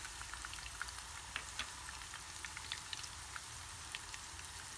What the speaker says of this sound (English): I'm going to fry the onions.